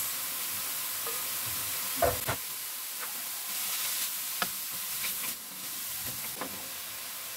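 Carrots and flaked milkfish sauté in a pan with a steady, close sizzle, broken by scattered scraping clicks from stirring, with no one talking.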